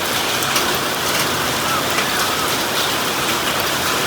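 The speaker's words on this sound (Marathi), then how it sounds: "नाही जोर पडायला पाऊस सगळ्या गारा गारा पडायला" Heavy rain mixed with falling hailstones makes a dense, steady hiss and patter of impacts, continuous and loud throughout with no gaps or voices.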